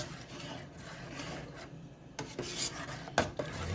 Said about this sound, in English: You're going to want to stir it a few times.